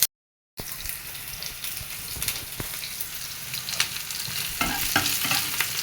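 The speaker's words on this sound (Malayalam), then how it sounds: "വാഴയ്ക്കായും തക്കാളിയും നല്ല പച്ച ചെമ്മീനും ഇട്ട് കറി വെച്ചാണ് ഇത് ഞാനിങ്ങനെ മൂപ്പിച്ചെടുക്കും" After a brief silent gap, a curry of plantain, tomato and raw prawns fries in a pan, giving a continuous close sizzle with scraping stir strokes that build slightly louder toward the end.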